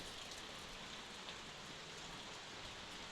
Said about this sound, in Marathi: खूप पाऊस लागता आमच्याकडे.